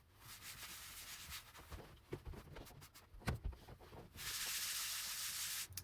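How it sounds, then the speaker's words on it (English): A sticky table inside a 20-foot 1999 trailer is wiped down with a cloth, giving close rubbing and scrubbing strokes with soft knocks, then a steady hissing swish toward the end; no talking. "now I'm just wiping it all down"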